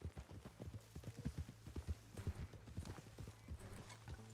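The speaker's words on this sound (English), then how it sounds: "Oh, Micah's horse is just chilling there." Horse hooves clip-clop steadily in a video game, a quick, even run of moderately loud hoof falls over a low hum of background sound.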